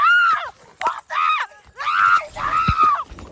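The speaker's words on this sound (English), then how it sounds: "you hear a man call out, and then a teenager screaming in terror" A teenager's high, piercing screams of terror during a dog attack, in several bursts, loud and close, with short gaps between them and a brief low thud near the end.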